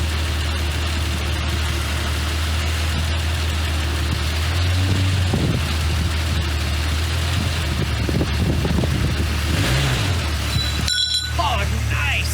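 A Jeep Cherokee that sat unused for over a decade, its engine running and revving over a steady idle rumble, with a few clinks and rattles and a louder burst near the end.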